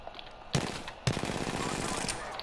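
Gunfire in the Apex Legends video game, a rapid burst of automatic shots followed by a longer sustained stream of fire, loud and close, with a voice speaking during it.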